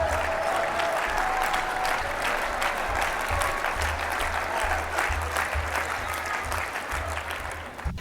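Sustained audience applause during a National Speakers Association keynote, a steady wash of many hands clapping that stays even and fades slightly near the end.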